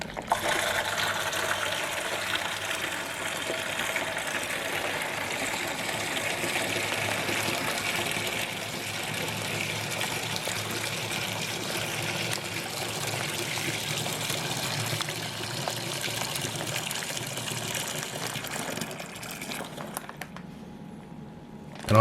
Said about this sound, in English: The next thing we do is empty the bladder in.